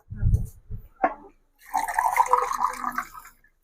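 Water is poured into a container in a spell of about two seconds of steady splashing and filling, preceded by a few brief low thumps and a short clink.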